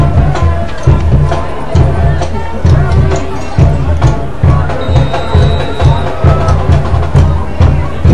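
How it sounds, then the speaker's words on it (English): A decent-sized crowd murmurs and cheers at an evening high school football game on a fairly cool night, a steady outdoor hubbub with a rhythmic low thumping running underneath. "We we have a decent-sized crowd in here tonight for a"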